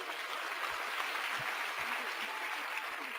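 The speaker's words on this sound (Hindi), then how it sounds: "एक जोरदार तालियां हो जाए" Brief burst of audience clapping at a live event, a steady wash of many hands heard from a distance for about three seconds without speech.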